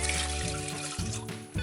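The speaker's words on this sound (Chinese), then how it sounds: "最后加入3到5杯的热开水" Hot boiled water pours into a pot in a brief steady stream, a close trickling splash lasting under two seconds with a slight shift in tone midway.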